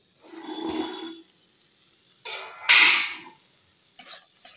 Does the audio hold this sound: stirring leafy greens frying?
yes